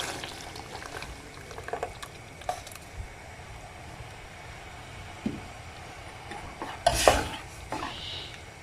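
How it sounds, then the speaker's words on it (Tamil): Rasam with omavalli (karpooravalli) leaves bubbles in a pot, a soft continuous simmer broken by scattered pops and a louder burst of bubbling near the end, heard close with no voices. "இப்போ ரசம் ஒரு 7 நிமிஷம் நல்லா கொதிச்சாச்சு."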